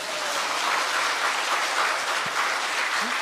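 Sustained applause from a large church revival audience, dense and steady throughout, with no voices standing out above the clapping.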